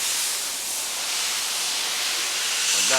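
A 2006 Chrysler Pacifica 3.5L's electric radiator cooling fans run at full speed under the hood, making a constant airy roar that holds level throughout, with nobody speaking.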